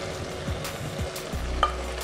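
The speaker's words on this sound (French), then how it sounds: "Je commence par mettre les oignons, je mets les gombo." Onions and okra frying in a pan, a soft continuous sizzle with a few stirring scrapes and a small clink over a low hum.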